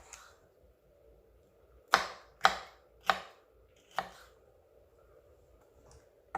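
Knife cutting a carrot in half on a board for Jamaican oxtail, four sharp distinct chops in quick irregular succession, close and crisp over a quiet background.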